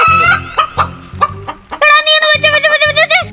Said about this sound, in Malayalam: അകത്ത് കോഴിയെ കൊല്ലുന്ന സൗണ്ട്.